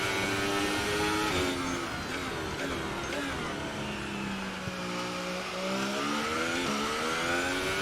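A Formula 1 car from a racing video game runs a flying lap around the Baku street circuit, its high-pitched engine screaming continuously and loudly, rising and falling in pitch through gear changes and corners.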